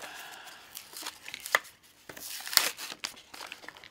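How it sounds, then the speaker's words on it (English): Plastic packaging of a Smith's 2 Step Knife Sharpener being ripped open, heard as irregular tearing, crinkling and sharp cracking snaps, close and moderately loud. "We're going to try to rip this thing open."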